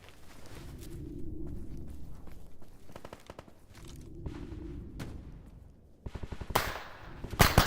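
Enemy gunfire in S.T.A.L.K.E.R. GAMMA, with bursts of rapid shots and single reports that repeat and echo at middle distance. Footsteps and movement run underneath, and several sharp, loud shots close by come at the end.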